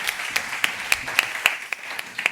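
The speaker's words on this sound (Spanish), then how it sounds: "Aplauso." A few people clap sparsely in a lecture hall at a talk, about ten distinct claps spread unevenly across a couple of seconds, moderately close and with no voices.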